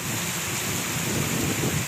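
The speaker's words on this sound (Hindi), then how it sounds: "तेज बारिश ने हर तरफ जलथल एक कर दिया" Heavy monsoon rain pours in a thunderstorm in Pakistan, a dense unbroken hiss of downpour with low rumbling thunder beneath, loud and close throughout.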